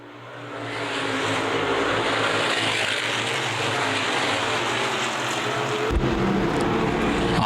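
Street stock race cars racing at Winchester Speedway, a dense, loud rush of engines and wind roaring past the microphone, with a brief thump partway through.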